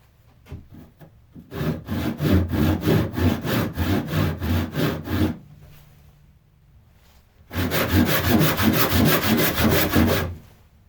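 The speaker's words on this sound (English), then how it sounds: "So when you're done cutting, this is a rough cut saw" A rough cut hand saw works through a piece of wood for a tic tac toe board project, with a long run of quick, steady back-and-forth rasping strokes, a brief pause, then another fast burst of sawing, close and clear.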